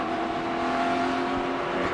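A NASCAR race car engine drones steadily from onboard Stremme's car, a loud continuous tonal roar with no break and no voices.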